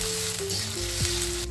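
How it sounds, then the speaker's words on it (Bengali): A paste of ground garlic, onion and cumin sizzles steadily in a hot pan while a pabda fish curry is being cooked. The frying is soft and continuous, with a faint tonal hum underneath. "ভালোভাবে মশলাটা ভেজে নেব।"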